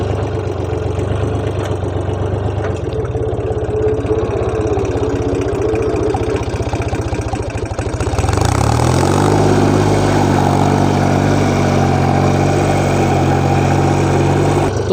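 A tractor pulling a wheat and fertiliser seed drill in a sugarcane field idles steadily, then its engine rises partway through to a louder, harsher running note that holds to the end, close by with no talk.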